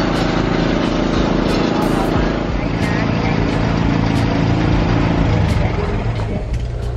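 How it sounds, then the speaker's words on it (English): An army truck's engine rumbles while driving through a flooded street near a market, a steady loud drone with water churning, heard alongside nearby traffic. "That's the army truck that brings soldiers to help people who suffer from flood."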